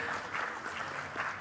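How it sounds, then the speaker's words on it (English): Applause from a conference audience for a panelist at a business event, a steady, fairly quiet wash of clapping that holds evenly across the moment with no voices over it. "Let's give him a warmer round of applause."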